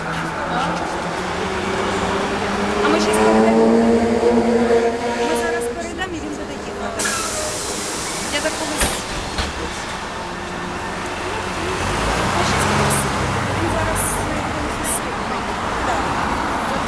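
A trolleybus pulls away from a stop on a Kyiv street, its electric motor whining in rising tones amid steady traffic noise, with a sharp hiss midway and people talking nearby throughout.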